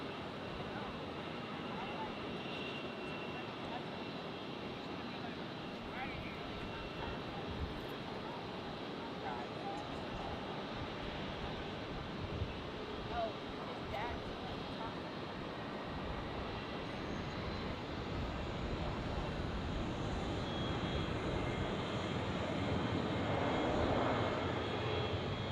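A Delta airliner takes off from runway 1 right at Tampa International Airport, its engines a steady, broad roar that swells slightly toward the end, with radio voices talking over it.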